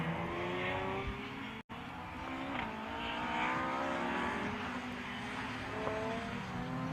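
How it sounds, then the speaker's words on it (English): A V6-engined race car competes at Anglesey circuit in a BRSCC race. Its engine note rises steadily through the gears as it accelerates past, loud and sustained, with a brief dropout partway through. "That's a really nice sounding car. I think that's a V6 underneath that"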